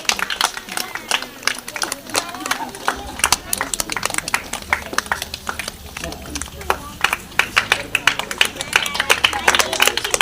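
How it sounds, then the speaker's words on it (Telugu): Children clap repeatedly at a school felicitation event, the rapid broadband claps continuing throughout over crowd murmur, while an adult speaks over a loudspeaker. "పిల్లలు చప్పట్లు"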